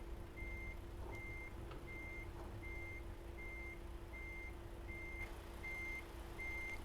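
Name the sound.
truck reversing beeps in video game American Truck Simulator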